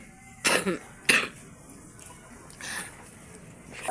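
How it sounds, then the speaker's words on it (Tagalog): Two sharp coughs in quick succession close to the microphone, followed by a softer throat-clearing sound amid quiet background noise. "ayan, kakaubo na naman"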